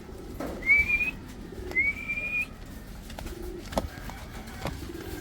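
Pigeons in their loft give low, muffled coos, mixed with two clear rising whistles near the start and scattered faint rustles and taps.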